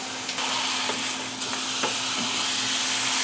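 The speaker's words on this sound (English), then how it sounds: "Browning ground beef is not my favorite job in the kitchen" Ground beef browns in a pan with a steady close sizzle and hiss, broken by several soft scraping and pressing knocks as a tool breaks up the meat.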